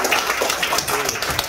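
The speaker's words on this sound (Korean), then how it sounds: "여러분 박수 한번 좀" A crowd claps at an inauguration celebration for a new association chairman, a brief, fairly close burst of mixed hand claps.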